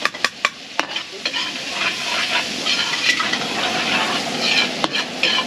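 Onion and garlic sizzling and frying in a pan for kare-kare sauce, a loud steady hiss broken by sharp spatula taps and stirring scrapes near the start, close up.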